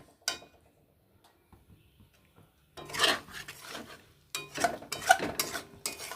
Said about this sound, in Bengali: তো এবার সুন্দর করে আরও বেশ কিছুক্ষণ আমি কষাবো